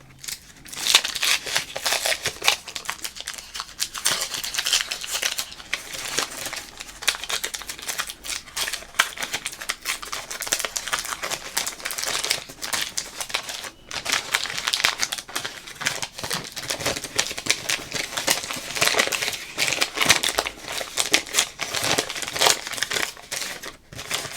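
Baseball card packs are torn open and handled up close for ASMR: steady crinkling, rustling and scratchy wrapper and card noises run continuously, fairly soft, with no talking.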